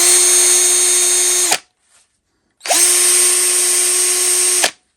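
TOPSHAK 20V cordless drill driver spinning freely in two bursts, each a loud steady whine with a quick spin-up and wind-down, separated by about a second of silence.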